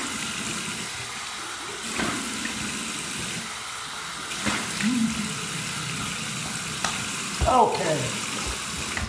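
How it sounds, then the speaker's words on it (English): Cold water splashes close by onto a face in a few distinct bursts over a steady hiss of running water; one brief spoken word. "Here's my cold water rinse to close my pores."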